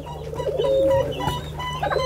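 Pigeons coo steadily and close by at a bird-keeping yard, low throaty calls repeating over a constant background hum, with a few faint chirps from other birds and no talking.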